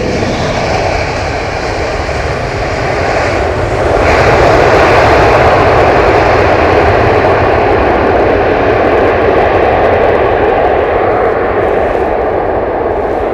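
Aircraft landing at London Heathrow Airport in wet weather, a loud broadband engine roar that swells around the midpoint and stays heavy, with a rushing quality and no talk.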